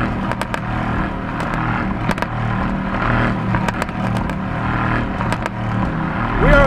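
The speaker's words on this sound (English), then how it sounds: "I love how this car pops." Mercedes AMG GT C Roadster exhaust crackling and popping off throttle, sharp irregular bursts of pops over a low engine rumble, loud and close, ending with a short rise in revs.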